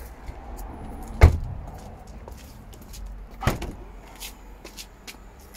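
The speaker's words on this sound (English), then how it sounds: "Auto tailgate" The automatic power tailgate of a Skoda Karoq operates in a quiet setting, with a sharp clunk near the start, a low motor hum, and a second latch thud a couple of seconds later.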